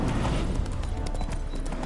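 Horse hooves galloping in The Witcher 3: Wild Hunt, a fast, muffled clip-clop over a dense rumbling game soundscape, steady and fairly quiet for a brief stretch.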